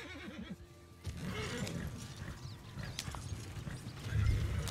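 A horse in a video game clops its hooves and gives a whinny early on. The hoofbeats then keep up a steady, moderately loud trot alongside other game sounds.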